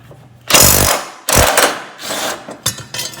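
A pneumatic impact wrench zips off the blade nut under a Craftsman T1000 riding mower. Loud, close hammering bursts with short pauses between them, then a few lighter rattles.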